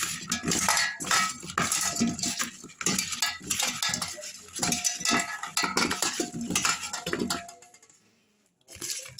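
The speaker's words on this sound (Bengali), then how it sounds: "এবার আলুটাকেও মাখিয়ে নেব।" Potatoes are mixed with spices in a bowl for a Bengali echor chingri dish. Close, rhythmic scraping and clattering of bowl and utensil fades out near the end.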